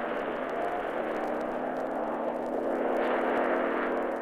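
Steady airplane engine drone as a sound effect in a 1940s Wonder Woman radio drama, a continuous even hum with slight swelling toward the end, no talk over it.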